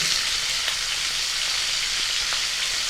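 Beans and potatoes added to cauliflower and carrot in a pan for a Bengali rui fish curry, frying with a loud, steady, close sizzle that holds unbroken throughout.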